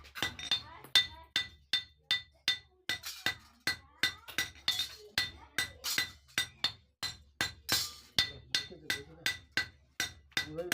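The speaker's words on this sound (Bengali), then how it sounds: "এ দেখেন মুখ পিটানো হচ্ছে" A hammer strikes the edge of a steel chisel to thin it, giving around thirty sharp ringing metallic blows in a steady rhythm, loud and close.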